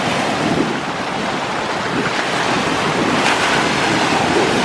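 Ocean waves break and wash up on a shore in a continuous loud rush of surf, mixed with wind buffeting the microphone, with no one talking.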